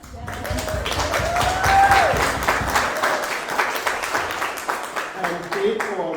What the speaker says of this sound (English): a big round of applause for MPDC